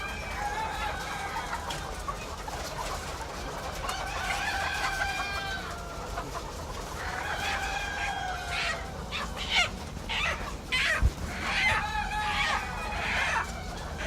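Chickens in a poultry house cluck and crow in overlapping calls over a steady barn hum, with a few sharper clatters and a busier stretch toward the end.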